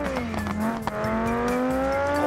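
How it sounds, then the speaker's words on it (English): A car drifts in a driving video game, its tires squealing in a long sustained wail over a steady engine drone, loud and close. "We're drifting it, kind of, I guess."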